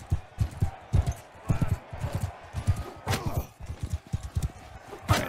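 Horse hooves pound in a rapid, rhythmic clip-clop gallop in the Bannerlord video game, loud and close, with occasional thuds and impacts mixed in and no talk.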